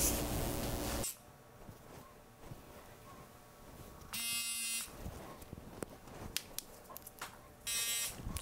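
Electric hair clippers buzz through a men's medium-length fade haircut, running steadily at close range with short bursts and pauses as they pass back over the hair, no voices heard.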